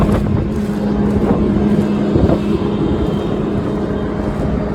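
A tractor engine drones steadily as it comes up to push a stuck baler on a steep hayfield hill, a loud continuous rumble with a few knocks and rattles and no speech.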